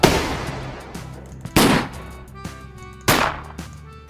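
Sharp gunshot bursts ring out at intervals, each followed by a long echoing decay, with smaller cracks of rattling fire in between.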